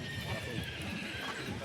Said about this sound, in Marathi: हे बघा मित्रांनो असे शेतकऱ्यांचे घोडे राहते इकडं.